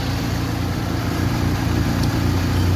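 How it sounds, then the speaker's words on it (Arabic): A Fiat Tempra or Shahin car engine idles with a steady, smooth low rumble. The exhaust runs loud and a cooling fan whirs, holding constant and close throughout with no talk. "المكنة زي ما انتم سامعين اهيت صوتها حرير"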